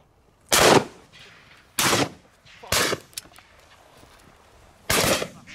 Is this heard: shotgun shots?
yes